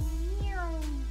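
A pet cat gives a short rising-then-falling meow, close and clear, lasting about a second, with a faint voice or background hum beneath it.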